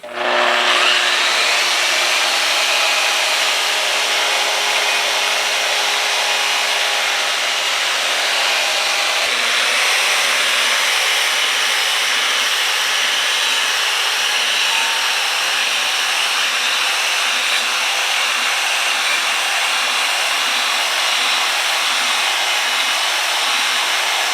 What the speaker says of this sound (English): Now we're going to clean up these welds just a little bit. Now just do a little wire wheeling.